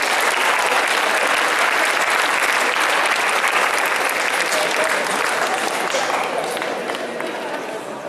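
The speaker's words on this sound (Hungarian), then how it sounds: "Hatalmas tapsot kérünk." Convention award ceremony crowd claps loudly and steadily throughout, a dense, continuous applause from a large audience that tapers slightly toward the end.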